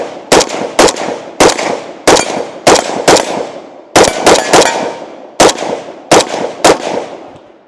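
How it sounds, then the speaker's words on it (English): A Zastava M92 7.62x39 AK rifle fires about a dozen loud, sharp shots with ringing decay, singly and in quick doubles at an irregular pace, close and without talking. "Let's go ahead and take our first few shots with the firearm."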